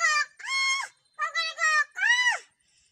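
A voice mimics a rooster crowing in four close, loud bursts, with a short pause after the second, the final call rising and then falling in pitch.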